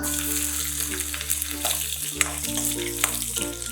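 Crushed garlic hits hot oil in a frying pan and sizzles loudly, a close, crackling hiss with stirring scrapes, while a steady tonal hum runs underneath.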